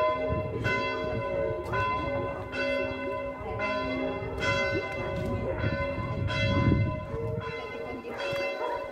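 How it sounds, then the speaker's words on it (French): Church bells of San Filippo Neri in Soriu di Tenda, Corsica, ring for mass, a steady sequence of loud, resonant strikes roughly every second, each swelling and overlapping the last, with faint background noise. "Ça y est, les cloches"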